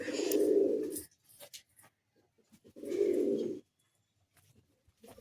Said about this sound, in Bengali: এই যে আমি পায়রাগুলোকে জলটা দেওয়ার পর এবার স্নান করতে দেবো